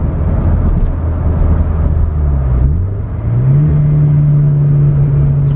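A Toyota 86 fitted with a Speed Factory UEL catted header makes a loud, close engine roar on a gear pull, the pitch dipping briefly as revs drop and then climbing steadily again.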